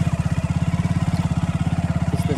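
A motorcycle engine on a village road thumps with a rapid, regular pulse, close by and steady for the whole stretch.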